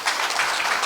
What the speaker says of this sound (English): Another clap for our First Lady, please.